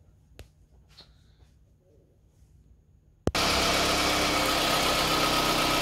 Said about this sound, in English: now it's starting the engine nicely